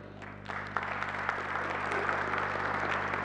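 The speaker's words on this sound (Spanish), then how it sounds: "no, si no tenemos más preguntas para Benoit, bueno, un aplauso para él" A conference audience at a Spanish-language session on IETF network management operations applauds a speaker after the talk: a sustained, moderately quiet wash of many hands clapping, beginning softly and building, over a faint steady electrical hum.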